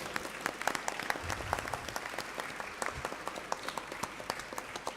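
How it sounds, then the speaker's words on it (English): A large audience applauds the chief guest at a school Founder's Day entertainment program, a sustained wash of many hands clapping at moderate distance, steady throughout with faint crowd noise underneath. "A huge round of applause."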